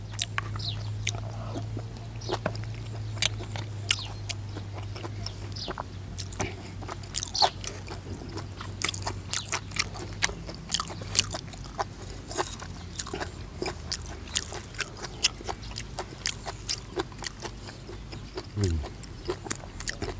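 Someone bites and chews raw beef dishes, tripe and liver from Isan cuisine, with a sour, spicy dipping sauce. Wet, crunchy chews and bites repeat close to the mic for about twenty seconds, with voices murmuring now and then.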